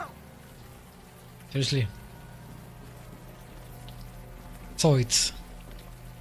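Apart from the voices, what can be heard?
warm rain falling in video game Unavowed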